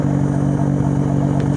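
A car's exhaust rumbles steadily with the engine running, a loud continuous low drone close to the microphone, with no voices.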